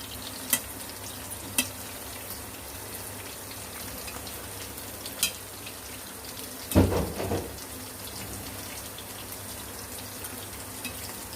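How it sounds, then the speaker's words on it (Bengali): Pointed gourd fries on low heat in a pan with a constant soft sizzle, broken by a few sharp ticks and one brief louder scrape or clatter partway through, with no talking. "পটল ভাজা হয়ে গেছে।"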